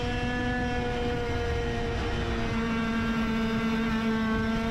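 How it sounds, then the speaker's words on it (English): Racing vehicle engine holding a steady droning tone with layered harmonics, loud and continuous, dipping only slightly in pitch partway through as the throttle eases, heard from onboard. "I'll roll off the throttle, you can hear it just a little bit there to start lap 2"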